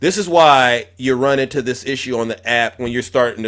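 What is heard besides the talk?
No everyday noises stand out.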